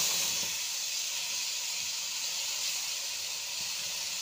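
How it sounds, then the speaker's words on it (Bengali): Spinach cooking in a little oil in a pan as its water evaporates, a steady, fairly loud hiss of sizzling and steam that holds without break, with no talk. "দিয়ে আমি পালং শাকটা আগে একটু জলটা টানিয়ে নেব।"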